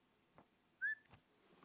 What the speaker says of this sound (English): here comes the whistle